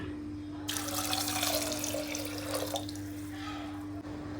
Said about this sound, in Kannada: ಈ ನೆನೆಸಿರೋ ನೀರನ್ನೇ ಇದಕ್ಕೆ ಹಾಕಿ